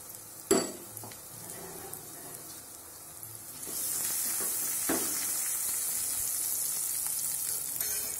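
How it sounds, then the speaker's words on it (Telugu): Spices tempering in hot oil for a Telugu ulavacharu (horse gram soup) with amla burst into a loud, steady sizzle after a sharp clatter, hissing continuously with small pops and no talking. "నేను ఇక్కడ పోపు వేసాను"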